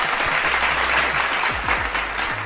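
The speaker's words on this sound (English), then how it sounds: "Y'all clap it up, man." An audience claps steadily and densely for the whole stretch, a continuous close wash of applause with a low hum running beneath it.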